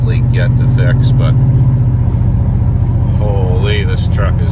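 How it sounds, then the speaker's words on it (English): Pickup truck with an 8.1 Vortec engine and a new quiet custom exhaust, plus a small manifold leak, idling with a low steady drone throughout while voices speak over it. "holy, this truck is super quiet compared to what it used to be"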